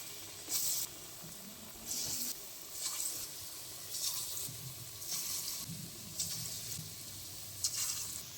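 Taler bora, sweet palm fruit fritters, fry in hot oil with a steady bright sizzle that swells in repeated bursts roughly every second, close and moderately loud, with no voices.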